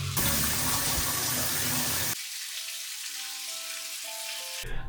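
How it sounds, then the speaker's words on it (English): A shower runs with a loud, dense hiss of spraying water that cuts abruptly to a quieter, thinner flow partway through, then swells again at the end. "I'm going to take a quick shower"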